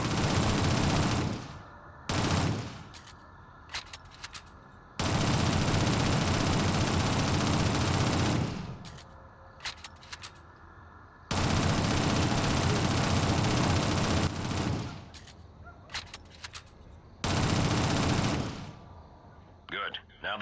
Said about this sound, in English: Use your SMG to clear it